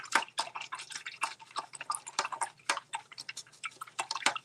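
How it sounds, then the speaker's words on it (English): A paintbrush rinsed in a cup of water: quick, light splashes, drips and tapping clicks against the container, close and fairly quiet, coming in rapid irregular bursts. "offload the paintbrush and then give it a good rinse"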